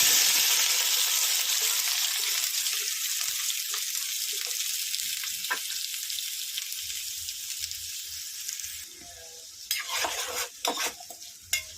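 Onion, green chilies and spring onion drop into hot oil for a small-fish curry, starting with a loud, hissing sizzle that gradually fades, followed by a few clattering stirs near the end.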